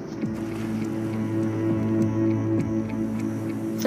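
Water sloshes and splashes after the player's character sinks in the Far Cry 3 video game, a continuous watery wash with low churning tones, moderately loud and steady.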